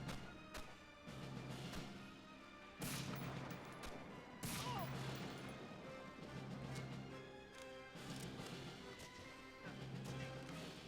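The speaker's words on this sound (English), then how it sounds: "There's some gun battle going on outside" Gun battle raging in the WWII shooter Medal of Honor Frontline, with repeated bursts of gunfire and heavy impacts layered over a dense, continuous wash of combat noise and background music.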